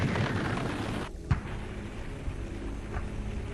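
Heavy artillery barrage from the 1972 Easter Offensive in Vietnam, guns and rockets firing on South Vietnamese positions across the demilitarized zone: a deep, continuous rumble of booms with one sharper blast standing out midway.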